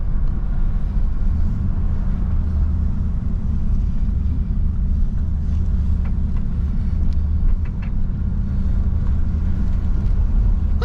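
A 1968 Oldsmobile Delmont 88 with a 455 big-block V8 out on the road, its steady deep engine rumble and road noise holding loud and close throughout with no one talking.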